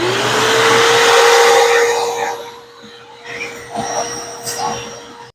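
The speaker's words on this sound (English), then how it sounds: "As you can hear right there, it has a very strong motor in it." A Craftsman wet/dry shop vacuum motor whines loudly for a couple of seconds with a rising tone, then winds down, followed by faint clatter and noise.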